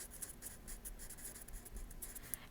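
Handwriting during a math lesson as the order of operations is written out: quiet, quick scratchy strokes in short bursts, close and faint, with no talking over them.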